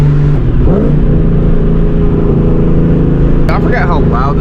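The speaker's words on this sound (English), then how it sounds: "I forgot how loud this car was." A 2004 Ford Mustang GT with a short shifter fitted, its loud engine droning steadily close up, with a rise in revs near the end and someone talking over it.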